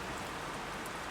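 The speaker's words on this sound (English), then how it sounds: "directing the sound of the rain and amplifying the quiet intimacy of the night" Steady rain falls at night in a narrow lane between tall buildings, a dense, even hiss of drops on stone that stays constant and moderately quiet with no other sounds.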